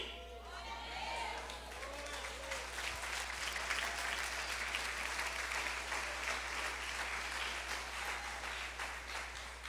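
Church congregation applauding steadily throughout, a dense even wash of clapping at moderate distance with a constant low hum underneath.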